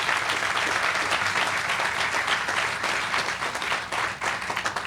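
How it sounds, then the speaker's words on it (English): Steady applause from an audience at a community healthcare press conference, dense and continuous clapping filling the space at close range, holding level throughout with no pauses. "That's worth a round of applause too."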